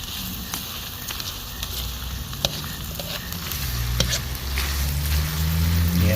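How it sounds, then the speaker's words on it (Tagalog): Corned beef and jute leaves cook in a pot, giving off a steady sizzle with occasional scrapes of stirring that grow slightly louder and fuller toward the end. "Halu-haluin lang, stir it occasionally."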